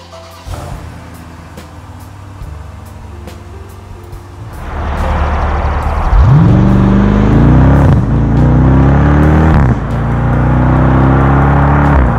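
A 2017 Jeep Grand Cherokee SRT idles inside a garage, then revs up loudly and close several times, its engine note climbing and falling in repeated swells with no voices.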